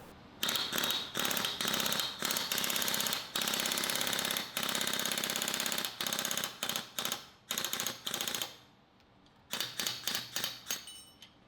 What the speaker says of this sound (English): removing the factory bronze pin bushings by driving them out with a driver